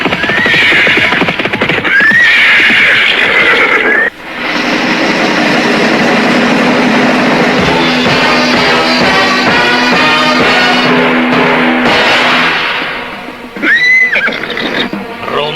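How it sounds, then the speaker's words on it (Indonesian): Horses gallop steadily closer in a radio drama sound effect, a loud continuous rumble of hoofbeats with high whinnies at the start and again near the end. "mendadak kembali terdengar derap orang-orang berkuda, semakin lama semakin dekat"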